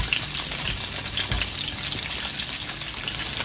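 Honey glazed salmon sizzles steadily in a frying pan, a dense, even crackle and hiss heard up close with no voices.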